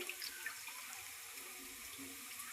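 Tap water runs steadily into a sink while freshwater chilapi fish are rinsed, a continuous close hiss and splash with no pauses.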